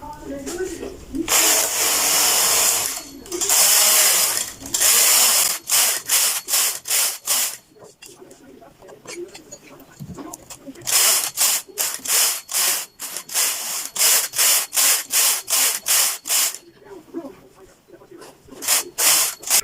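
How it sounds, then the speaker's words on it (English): Knitting machine carriage knitting rows of an adult shorts piece at tension 7: repeated rushing, rasping sweeps back and forth, long passes at first, then quick rhythmic strokes, close and loud. "then I knit 50 rows straight in tension 7"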